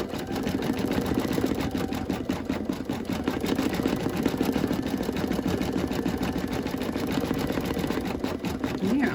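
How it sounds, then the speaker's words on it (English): A computerized embroidery machine runs steadily with a fast, even mechanical chatter of needle strokes, stitching a zigzag and then a satin stitch on a planner cover, heard up close with no talking. "it does the zigzag and then it will do the satin stitch"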